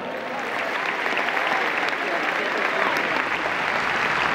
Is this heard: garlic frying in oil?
no